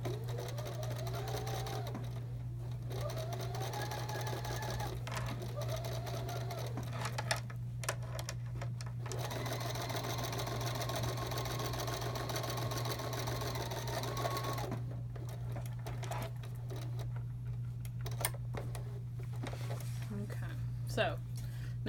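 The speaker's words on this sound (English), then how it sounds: "then we'll just sew the same side, the other side down the same way" A Bernina sewing machine stitching a fabric seam, its steady mechanical whir running in long bursts separated by brief pauses, with someone talking over it and a low electrical hum throughout.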